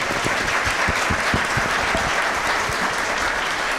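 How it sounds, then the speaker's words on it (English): Luncheon audience applauding county leaders, a steady, even wash of clapping from a room full of people, with a few louder individual claps close by and no talk over it. "Let's give them a round of applause."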